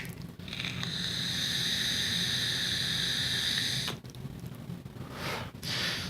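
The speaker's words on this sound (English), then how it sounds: "That's the sound of me vaping." A person inhaling from a vape, a long steady hissing draw lasting several seconds that cuts off abruptly, followed by softer breathy exhales, close and fairly quiet with no talking.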